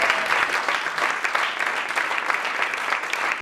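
An audience breaks into loud, dense applause that holds steady for several seconds, a continuous wash of many hands clapping together without speech.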